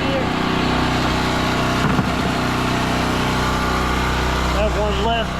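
The engine of a soft wash roof-washing rig runs loud and close, a constant mechanical drone with a brief rough surge partway through.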